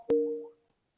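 A single phone disconnect tone cuts into a video call, a short steady electronic beep that holds for about half a second and then fades, loud and alone.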